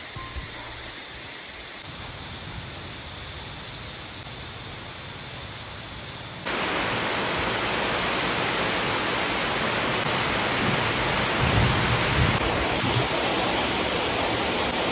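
Heavy tropical storm rain pours down steadily as a typhoon arrives, a dense, hissing wash that suddenly grows louder and fuller partway through and then holds at that level with no voices.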